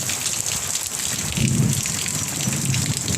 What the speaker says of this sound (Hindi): पूरा बरसात जैसे पानी गिरत है।